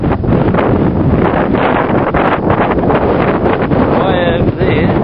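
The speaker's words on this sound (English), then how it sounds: "It is extremely windy." Strong wind buffets the microphone on a lighthouse platform at a harbour entrance channel on the Awhitu Peninsula near Auckland, a loud continuous roar with gusting surges throughout.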